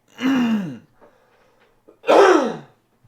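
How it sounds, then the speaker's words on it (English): Two harsh, raspy smoker's coughs from a man on a podcast, each a loud burst about half a second long, separated by a short quiet pause with faint background noise. "Smoker's cough."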